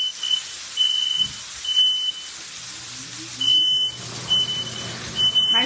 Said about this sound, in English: My smoke detector is super dramatic